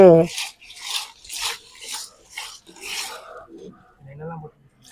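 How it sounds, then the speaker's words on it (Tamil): Rough, rhythmic rasping strokes repeat about once a second as fish is scrubbed hard with rock salt and turmeric, followed by a brief voice. "இதில் வந்து கல் உப்பு மஞ்சத்தூளும் போட்டு நல்லா இதை ராவி கழுவணும்"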